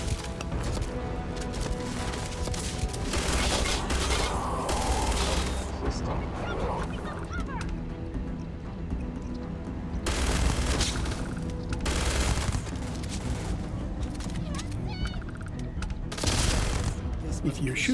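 Gunfire in a Starfield firefight, repeated bursts of rapid shots recurring through the stretch, mixed with honking tones, while a voice talks over it.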